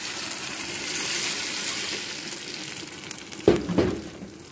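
Tomatoes and onions simmer in a pan for a fish sauce, giving a steady, close sizzle with a couple of sharp knocks of a utensil near the end.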